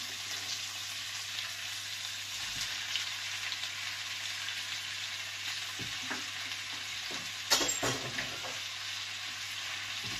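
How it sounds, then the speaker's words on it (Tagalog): Chicken pieces sizzle and fry steadily in a hot pan for dishes with upo and sardines, a continuous crackling hiss with a few louder spatters and stirring clicks near the end. "Ihulog ko na po itong ating chicken."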